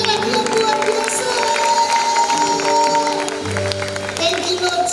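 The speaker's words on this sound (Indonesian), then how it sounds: "Tepuk tangannya lagi yang luar biasa." Congregation applause during a senior community church worship service, a dense steady patter of clapping blended with ongoing music and voices throughout.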